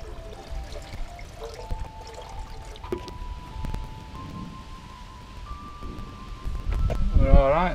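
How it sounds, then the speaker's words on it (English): Water being poured into a welded axle casing to check the seams for leaks, a soft trickle and splash at close range that gurgles louder near the end. "Just I put some water in it, make sure it's all sealed before I reinforce it."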